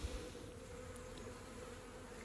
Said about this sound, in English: I'll just show you all the bees waiting back at the stand